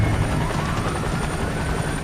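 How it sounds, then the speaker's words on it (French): A police helicopter at a rescue scene after the Air Florida Flight 90 crash drones steadily, its rotor chop a continuous, fairly loud thrum with a faint high whine over it. "On entendait le bruit de l'hélicoptère au loin."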